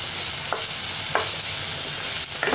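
Cauliflower sautéing for a pepper fry with ground garlic, pepper and cumin makes a loud, continuous sizzle close up. A few brief spoon strokes click and scrape through it at regular intervals.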